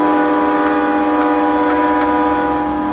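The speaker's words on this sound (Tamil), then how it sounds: "காட்டு யானை பிளிரிட்டு வர்ற மாதிரி ரயில் வந்து நிற்குது" A train arriving and halting, heard as a loud, steady, drawn-out blaring hum with a few faint clicks, close and continuous for a few seconds with no voices.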